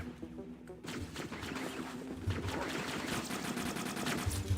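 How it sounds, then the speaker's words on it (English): Gunfire from a shotgun in the video game Halo: Combat Evolved, played co-op against the Flood, rings out as dense, loud repeated blasts that continue steadily through the clip amid game noise. "Because the shotgun is one of the better weapons you could use against the Flood in this game."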